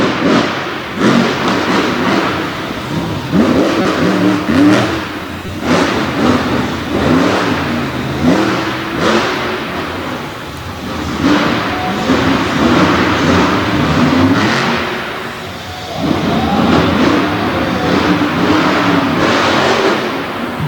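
Monster truck engine roaring and revving continuously at a motorsport show, with heavy thuds as it lands a big jump off a center FMX landing ramp, loud and close throughout with a brief dip before the engine surges again.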